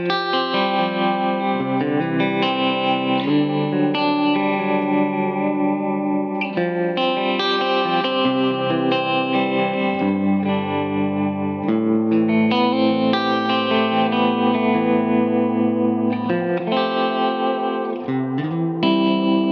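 A Suhr Modern electric guitar with bridge and neck humbuckers in the middle position plays a clean, jangly chord passage, ringing strummed and arpeggiated notes with a chorus-like shimmer, continuous and alone for about twenty seconds.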